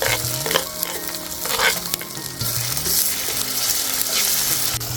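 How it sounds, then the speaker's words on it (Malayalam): Ginger and green chilies fry loudly in hot oil in a pan, with a continuous close sizzle and occasional stirring scrapes throughout. "ഇനി നമുക്ക് ഇഞ്ചി ഇട്ട് കൊടുക്കാം ഇഞ്ചിയുടെ കൂടെ തന്നെ നമുക്ക് പച്ചമുളകും കൂടെ ഇട്ട് കൊടുക്കാം"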